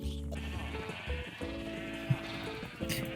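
Sheep bleating in Minecraft, with game tones throughout, a short bleat standing out briefly partway through at moderate level.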